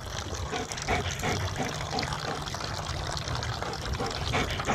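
A White German Shepherd laps water from a bowl, producing continuous wet splashing and slurping close up at a fairly quiet level.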